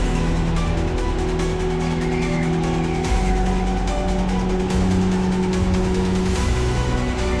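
Racing karts run laps on a track at Eupen, with several engines droning and overlapping at steady loudness, pitch rising and falling as they accelerate and brake through the corners.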